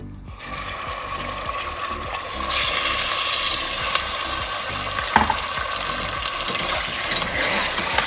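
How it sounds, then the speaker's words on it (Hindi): Meat hitting hot oil in a pan for biryani, sizzling steadily and loudly throughout, with occasional stirring scrapes and clatter over the constant frying hiss. "गरम हुआ, अब इसमें हम गोश्त डाल देते हैं"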